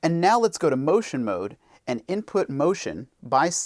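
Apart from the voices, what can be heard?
No everyday noises stand out.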